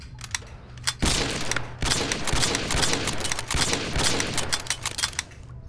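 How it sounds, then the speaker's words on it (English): A silenced carbine rifle fires in the VR shooting game Gun Club VR: rapid bursts of sharp, clattering shots in close succession, loud and alone, with short pauses between volleys. "It's like a silenced carbine rifle."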